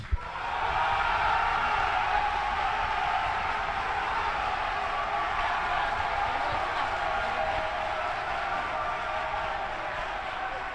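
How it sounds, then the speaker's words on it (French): An audience at a quiz competition breaks into applause for a team, a dense burst of clapping that starts abruptly, stays loud and even, then eases slightly toward the end. "On l'applaudit."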